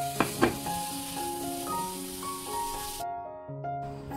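Loud hissing sizzle of raw mango paste frying in hot oil for tempering, with a couple of sharp clatters at the start and a sudden drop partway through.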